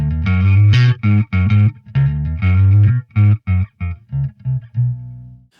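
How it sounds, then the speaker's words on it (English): Distorted bass guitar played through the Audio Assault Bassgrinder plugin, a run of short, gritty notes and a riff with rough, buzzy overtones, loud and alone. "Funny how the distortion comes through differently, a different amount on different tones."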